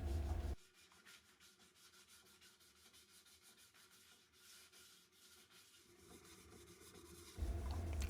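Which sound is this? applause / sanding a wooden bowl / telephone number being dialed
sanding a wooden bowl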